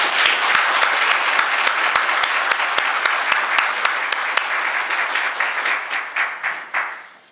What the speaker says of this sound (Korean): 수고하신 우리 국장님하고 과장님께 박수 한번 보내주시기 바랍니다